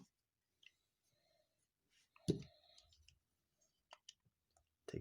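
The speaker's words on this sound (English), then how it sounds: "So we'll take these, clip those together, fold these up just like that" Plastic parts of a toy robot snap and clip together in a quiet setting: a few sparse, faint clicks and one louder clattering snap, with no voices.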